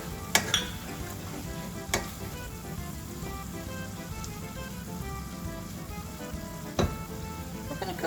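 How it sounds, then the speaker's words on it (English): Chopped onion sizzles and fries in a pan with browned ground beef, a steady close crackle with a few sharp scrapes of stirring, no talking. "Now that my ground beef is brown, I'm going to add my onion. I'm going to cook that for a few minutes."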